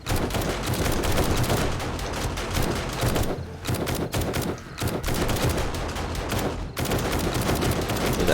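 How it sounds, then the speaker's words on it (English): Defensive turrets in 7 Days To Die blasting away during a base attack, a dense, sustained rattle of rapid gunfire close by with only brief lulls. "There goes the turrets."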